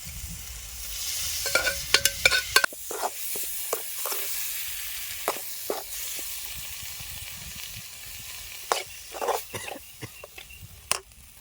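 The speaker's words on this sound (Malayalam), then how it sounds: "ഇനി നമുക്കിതിലേക്ക് വേവിച്ച് വെച്ചിരിക്കുന്ന കൂൺ ചേർത്ത് കൊടുക്കാം" Cooked mushrooms, boiled with turmeric and salt, are stirred into a frying pan, with a soft hiss under intermittent sharp scrapes and clatters of the spoon against the pan, close by and without talk.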